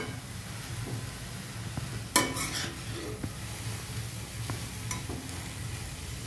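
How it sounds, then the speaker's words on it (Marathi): Salt being stirred into cabbage in a pan, a low steady hiss under soft scraping strokes, with one sharp metallic clank of spoon against pan early on, no talking. "आणि ते मीठ चांगल्या प्रकारे मिक्स करून घ्यायचं आहे।"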